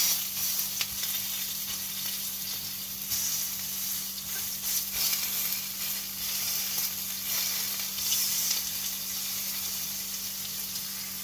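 Homemade maple bacon sizzles and crackles steadily in a pan, a close, constant frying hiss with small pops and no talking.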